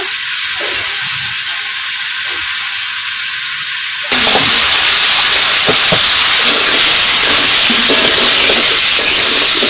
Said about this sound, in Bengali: এখন আমি পেঁপে আর আলু দিয়ে দেবো তেলের ভিতরে